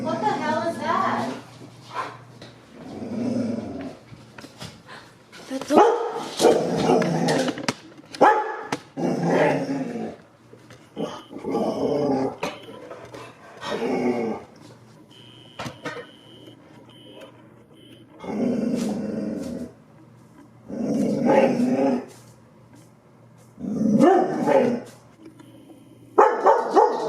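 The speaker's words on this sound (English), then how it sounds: "my dog was barking at like a tiny little spider on the ceiling" A dog barks and growls at a tiny spider on a room ceiling, loud close barks in bursts with pauses, mixed with growling and yips throughout.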